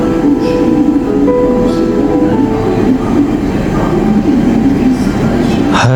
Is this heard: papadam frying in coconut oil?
no